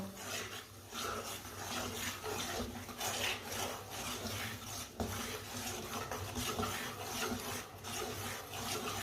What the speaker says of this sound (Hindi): ऐसे ही चम्मच चलाते हुए भूनना है दाल को